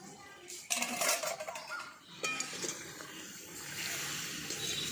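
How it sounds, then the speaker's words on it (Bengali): Boiled green mangoes going into hot sugar syrup for murabba, with clattering of a utensil against the pot and a soft bubbling, hissing background, fairly quiet. "সেদ্ধ করা আমগুলো দিচ্ছি।"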